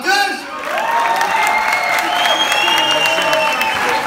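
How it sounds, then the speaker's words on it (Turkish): A crowd at a music hall dinner theatre applauds and cheers loudly and steadily, with voices and tonal sounds rising over the dense clapping. "Daha çok alkış!"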